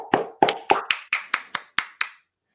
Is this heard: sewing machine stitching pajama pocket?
no